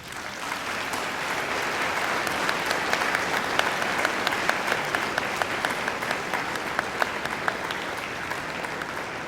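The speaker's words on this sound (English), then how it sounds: "give them a mighty round of applause" Sustained audience applause fills a graduation ceremony hall, a dense steady wash of many hands clapping at even loudness with sharper individual claps standing out, no voices on top.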